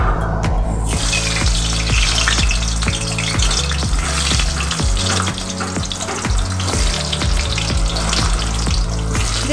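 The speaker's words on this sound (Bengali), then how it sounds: "এবার প্রথমে আমি আলুগুলো ভেজে নেব।" Potatoes fry in hot mustard oil in a wok with a loud, constant sizzle up close, along with light clinks and stirring sounds throughout.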